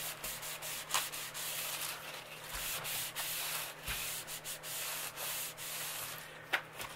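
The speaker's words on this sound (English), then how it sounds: "I'll just rub that, rub it dry a little here." Paper glued onto an altered book binding is rubbed dry by hand, giving soft, quiet, dry rubbing strokes in short repeated passes with no voices.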